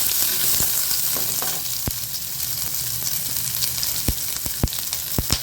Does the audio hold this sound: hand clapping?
no